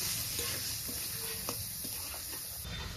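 Ginger-chili paste with turmeric and chili powders fries in a pan with a splash of water, giving a soft, steady sizzle broken by a few small pops and light stirring scrapes, heard close.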